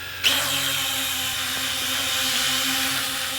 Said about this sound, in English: As I start up the drone